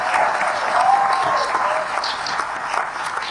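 Applause from an audience at a public conversation in Bangalore, steady clapping throughout with a voice briefly heard over it.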